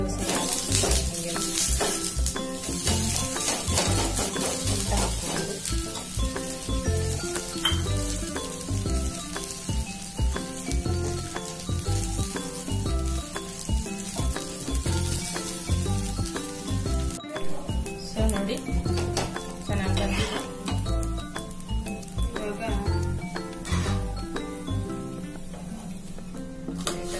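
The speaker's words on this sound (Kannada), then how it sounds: "ದೋಸೆ ಹಾಕ್ತೀನಿ." Ragi dosa batter sizzling on a hot pan, a steady crackling hiss throughout with occasional clinks of a utensil and a voice talking over it.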